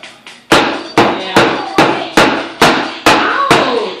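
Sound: hitting a table

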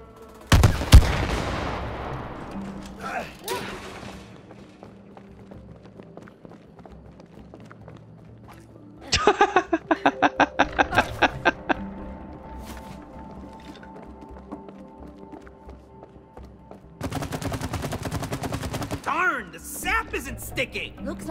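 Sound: shooting in the video game It Takes Two

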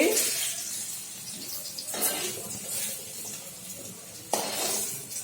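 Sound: sugar being fried in a pan

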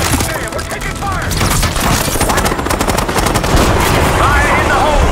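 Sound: gunfire in the video game Call of Duty Black Ops 6

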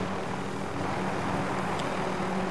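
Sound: helicopter flying away in a battle royale video game

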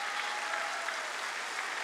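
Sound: audience applause at a church sermon

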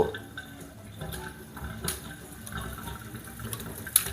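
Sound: filtered water flowing from a Toray Vino SX606V faucet water filter

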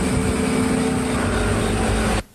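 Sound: motorcycles roaring past a house at night

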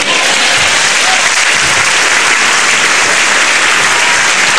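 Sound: audience applause at stand-up comedy show

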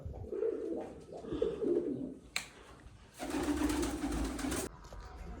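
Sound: pigeons cooing

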